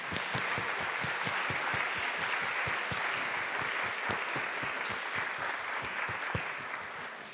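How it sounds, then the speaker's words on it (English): Warm audience applause for Professor Ben Kiernan at the close of a lecture on Nazis, Stalinists and the Khmer Rouge, a full continuous roomful of clapping with some individual hands standing out, steady throughout. "I would like to give a warm applause for Professor Kiernan"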